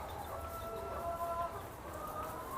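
Chickens cluck softly and steadily in the background, with faint farmyard ambience and no clear talking.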